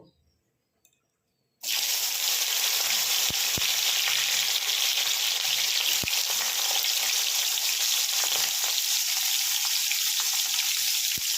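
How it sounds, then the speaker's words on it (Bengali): Bitter gourd slices drop into hot oil in a wok and burst into a loud, continuous close sizzle after a brief quiet start, with a few faint knocks under the steady hiss. "এবার আমি আস্তে আস্তে উচ্ছেগুলোকে ছাড়বো দিয়ে আমি কিছুটা ভেজে তুলে নেব"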